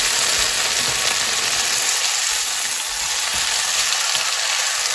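Freeze-dried vegetables fry in bacon grease in a pan, giving a loud, continuous hiss and crackle that stays steady throughout with no talking.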